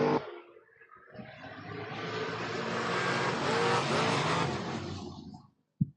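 Mustang drag race cars launching and roaring down the strip, a loud engine wail that builds and sustains for several seconds, then cuts off abruptly.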